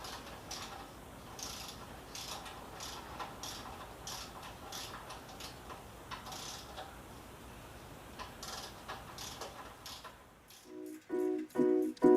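A torque wrench ratchets as wheel bolts on a 2010 Triumph Street Triple R motorcycle are tightened to 22 newton meters, quiet rhythmic clicks and ticks close by, ending in a few louder, sharper clicks.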